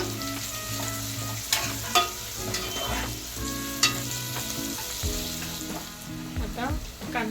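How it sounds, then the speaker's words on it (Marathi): Onions frying in a pan for a bottle-gourd (lauki) vegetable dish: a steady close sizzle with occasional stirring scrapes and clinks, with no talk. "कांदा चांगला शिजवून घ्यायचा आपल्याला।"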